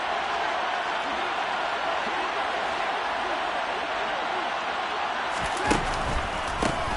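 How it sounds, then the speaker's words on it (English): Stadium crowd cheering in a Madden football video game before a big third down, a steady broad roar of the crowd with a few sharp thumps near the end. "the crowd getting into it as we come up on a big third down"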